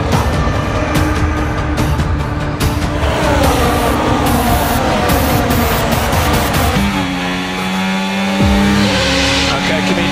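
Formula 1 cars roar off the grid at the Montreal circuit in the racing game F1 24, engines revving high and dense with shifting tones and tire squeal, loud and continuous, with a voice speaking over it.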